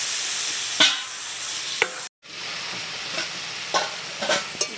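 Bengali curry stir-fried in an uncovered pan: a steady sizzle with repeated scraping strokes of a spatula at irregular intervals, broken by one short silent gap.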